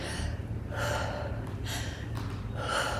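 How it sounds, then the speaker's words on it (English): Heavy panting breath during a HIIT workout, a series of loud, rapid gasping inhales and exhales repeating close to the mic with no talk. "One of them I'm filling my lungs, the other one I'm panting."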